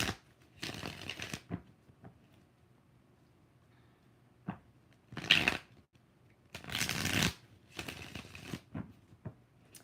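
Tarot cards are shuffled in several quick riffling bursts separated by pauses, with soft taps in between, close and fairly quiet.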